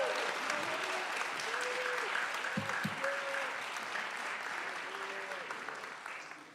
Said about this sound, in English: How about another round of applause for Will Austin?